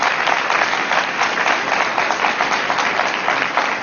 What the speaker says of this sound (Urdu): ہاں جی، تالیاں بجا سکتے ہیں یسوع کے جلال کے لیے۔